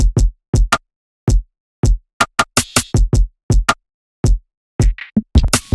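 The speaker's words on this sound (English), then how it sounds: "I made this initial drum pattern, and it sounds like this." Sparse, spacey drum pattern of punchy kicks and sharp rim clicks separated by silent gaps, with a short airy swell near the end.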